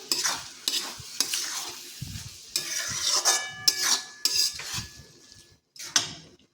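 A spoon stirring a cooked curry of green onions and pigeon peas in a pan, with repeated scraping and clinking strokes in an irregular rhythm over a faint sizzle, no talking.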